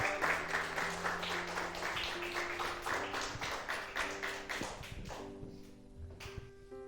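Church congregation at an evening worship service in Rio Negro, Paraná, clapping in a steady rhythmic beat, fairly loud and close, with sustained musical tones underneath and the claps thinning out toward the end.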